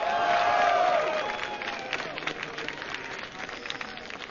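Live esports crowd at an MLG Providence match cheering for Team Solo Mid, a broad roar of voices that starts loud and then settles into sustained, scattered cheering and clapping.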